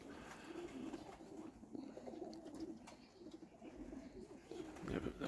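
Budapest pigeons coo softly in a loft, a low continuous murmur of several birds running throughout, fairly faint with no talk over it.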